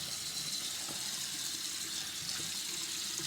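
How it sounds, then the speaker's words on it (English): Hot water runs from a tap into a sink in a steady, close, continuous hiss and splash that stays loud and even throughout, with no talking. "Turning on the hot water, waiting for it to get warm."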